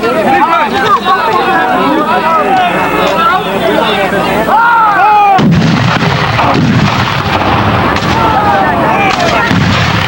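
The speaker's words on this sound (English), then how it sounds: "mountain howitzer of the Confederate Army" Confederate mountain howitzer and gunfire at a Civil War battle reenactment, loud booms and shots mixed with crowd babble and a commentator talking throughout.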